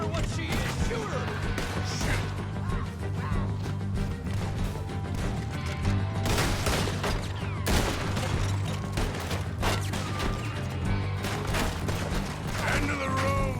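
Gunfire from the Red Dead Redemption video game, a dense run of shots and bursts layered over a steady music and ambience bed, with talking mixed in throughout.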